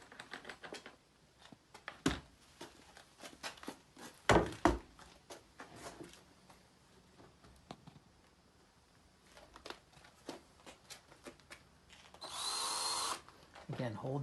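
Power drill driving screws while a wall-mounted kayak or paddleboard rack is assembled, with short drill bursts amid handling clicks, a loud sustained whirring run near the end, and some speech.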